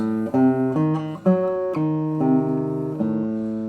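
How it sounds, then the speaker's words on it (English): Piano notes and chords forming a diminished triad played in sequence, several voicings struck one after another and left to ring, with no speech over them. "so what we have is a diminished triad"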